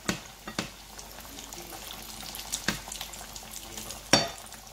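Potato galettes (ma3kouda) fry in oil in a pan, giving a steady crackling sizzle with a few sharp pops and spatters, one louder burst near the end, close and with no talking.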